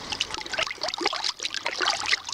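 Water trickling and splashing as a copper-electroplated motorcycle part is rinsed of copper oxide, a close, steady run of wet splashes with brief dips.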